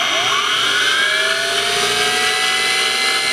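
Electric brushless RC motor spinning up on a MiniPro dyno, a loud continuous high whine that climbs steadily in pitch as it accelerates, alone with no talk.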